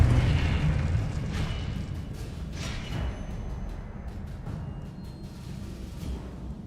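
A Confringo blasting spell goes off in Hogwarts Legacy, a deep booming burst that rolls into a long, rumbling decay, with a few lighter bangs scattered through the fading noise.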